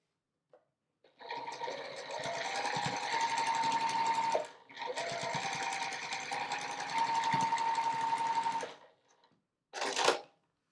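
A sewing machine stitches a flying geese quilt block in two long, steady whirring runs with a brief pause between, followed by a short final burst, close and fairly quiet.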